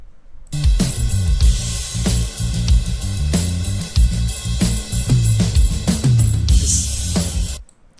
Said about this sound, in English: Together this drum sounds something like this.